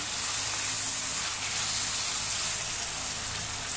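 Dill leaves sizzling in hot oil over chopped tomato, a steady close frying hiss that holds evenly throughout with no voices.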